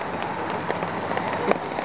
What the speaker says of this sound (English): so I could share the rain with you guys